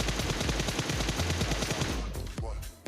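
Rapid bursts of automatic gunfire crackle in a mobile battle royale game while bots are shot, a dense rattling stream followed by a few separate louder shots at the end.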